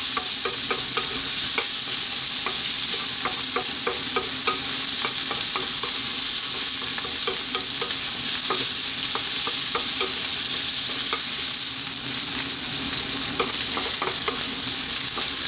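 Vegetables for curried fried rice, cauliflower among them in very small amounts, stir-fry over high heat in a constant loud sizzle, with quick scrapes and clicks of the stirring utensil repeating throughout, close up and without talk.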